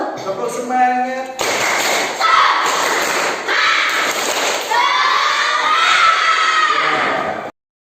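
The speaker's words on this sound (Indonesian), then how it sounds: "Tepuk semangat" A school class performs a group spirit clap, rhythmic thumping claps mixed with loud children's shouting and chanting voices, dense and close throughout before stopping abruptly.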